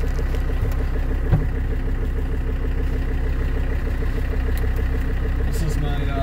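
An OM617 diesel swapped into a 1988 Toyota pickup with a 5-speed and 4.30 gears, running biodiesel, drones steadily from inside the cab while driving, with a constant low clattering rumble throughout.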